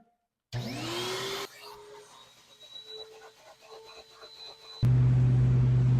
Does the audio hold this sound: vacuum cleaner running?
yes